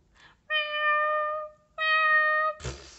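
Male cats yowl at night, two long drawn-out tonal cries with a brief pause between, followed by a short harsh hiss or spit.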